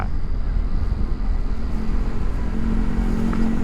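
Vespa Sprint 150 ABS scooter with a 150 cc i-get three-valve engine pulling up to speed, its engine note a loud, continuous drone mixed with wind noise on the road.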